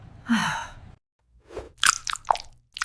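Someone chewing beans with wet, crunchy bites and squishy mouth sounds, close and fairly loud, in a short burst, then a pause, then a few more crunching chews.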